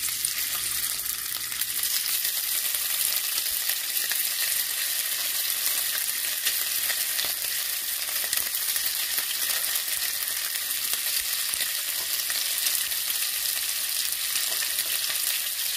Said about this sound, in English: let's go ahead and get this bacon in the skillet